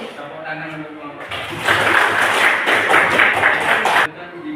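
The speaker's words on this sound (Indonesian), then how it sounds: "Tepuk tangan untuk kelompok." Classroom applause for a presenting student group during a school lesson, a short burst of scattered clapping from a modest crowd lasting a few seconds between stretches of speech.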